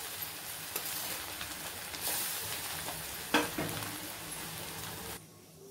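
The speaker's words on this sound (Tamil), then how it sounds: "இப்போ வந்து நம்ம வந்து அடுப்பில் எண்ணெயை வச்சு போட்டு எடுத்துருவோம்" Soaked taro root pieces fry in hot oil, a steady sizzle with occasional stirring scrapes and clinks, close and continuous before cutting off near the end.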